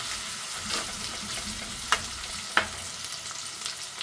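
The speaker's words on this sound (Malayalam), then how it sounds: "ഈ ഇഞ്ചിയും വെളുത്തുള്ളി ഇടുമ്പോൾ പച്ചച്ചുവ പോകാൻ വേണ്ടിയിട്ട് കുറച്ച് സമയം കാത്താൽ മതി" Ginger and garlic sizzling in a pan for a fish curry: a soft, steady frying crackle with a couple of sharp pops and light stirring scrapes, fairly quiet and without talk.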